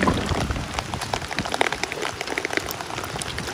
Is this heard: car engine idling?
no